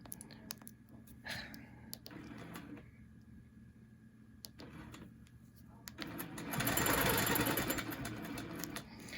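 A sewing machine runs in bursts while stitching a quarter-inch seam along a triangle ruler, a strong steady whir swelling loudest near the end, with softer clicks and pauses between runs.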